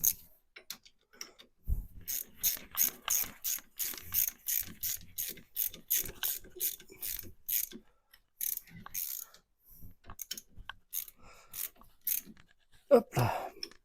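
A small ratchet tightens the brake caliper bolts on a Renault Clio 2, giving rapid, close clicking bursts in repeated runs with short pauses and a final clatter.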